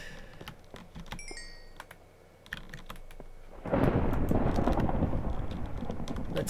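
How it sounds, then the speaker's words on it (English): Minecraft rain starts partway through, a dense steady hiss of falling rain that rises suddenly and stays loud after earlier scattered clicks and taps. "Hey, I guess it's raining."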